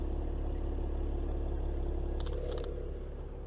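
A 2023 Chevrolet Camaro 2LT RS V6 with the performance exhaust idles, a steady low rumble held evenly throughout, with a few faint clicks near the end.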